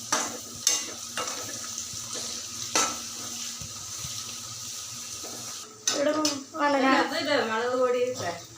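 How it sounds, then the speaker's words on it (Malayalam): Egg roast masala being stirred and sautéed in a pan, a steady low sizzle with occasional utensil scrapes and clinks against the pan, then a voice talks over the cooking in the final seconds. "നല്ലോണം വയറ്റണം"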